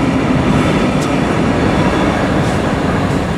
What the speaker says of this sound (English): That's the Brightline train.